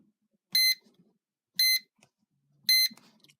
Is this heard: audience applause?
no